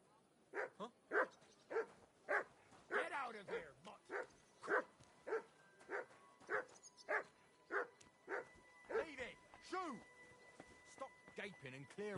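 Dog in a medieval role-playing game barking repeatedly in a steady rhythm of loud, close yelps and woofs, with a voice speaking between and over the barks.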